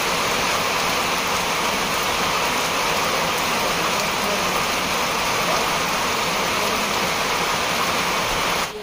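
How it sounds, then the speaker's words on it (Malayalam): Heavy rain pours steadily on the forest around a watch tower in Periyar Tiger Reserve, a dense, loud, unbroken roar of drops with no voices. "ഇന്ന് നല്ല മഴ."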